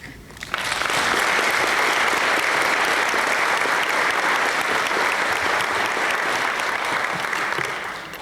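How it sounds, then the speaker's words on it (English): Steady, full applause from a large audience at a college state-of-the-college address welcoming new faculty, dense sustained clapping that rises quickly and holds for several seconds before tapering. "Will you join me in giving a round of applause for all our new faculty and buddies?"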